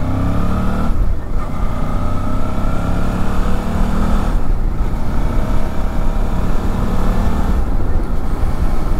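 A 2004 Suzuki DL650 V-Strom twin-cylinder motorcycle engine drones loud and steady close by, rising in pitch as it pulls around 4000 rpm, with brief dips where the rider shifts gears, mixed with rushing wind.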